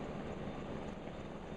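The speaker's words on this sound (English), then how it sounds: "Away flies the big helicopter into the sunset." A large yellow medical helicopter flies away, its steady broadband rotor and engine roar holding even and fairly distant without any talk.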